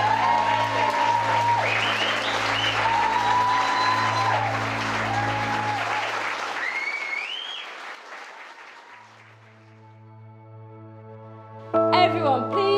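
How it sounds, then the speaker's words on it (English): Wedding guests break into loud applause and scattered cheering after the couple's kiss, building to a dense clapping roar that tapers off after about eight seconds, then a sustained musical tone and a brief bright flourish follow. "Everyone, please give a cheer and welcome Mr. and Mrs. Hunter."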